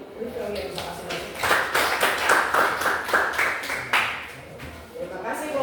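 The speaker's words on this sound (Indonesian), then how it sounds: "berikan aplaus untuk Rachel yang bisa kasih masukan" A classroom of students at SMK Negeri 1 Ambon claps for Rachel, a burst of brisk, fairly close applause lasting a few seconds that rises and then tapers off, with talk around it.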